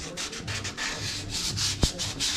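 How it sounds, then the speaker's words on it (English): Hand sanding on stained cedar: repeated short back-and-forth rubbing strokes, close and fairly quiet, with a brief knock partway through. "Just a little bit of sanding and then hit it again."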